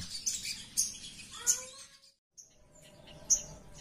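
Sooty-headed bulbul singing in short, bright chirping phrases repeated at intervals, close and clear over a quiet low background hum with a brief silent gap midway.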